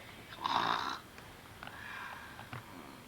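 A person imitates snoring with one close, nasal snore followed by quieter snorting breaths, fairly faint overall.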